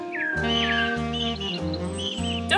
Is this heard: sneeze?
no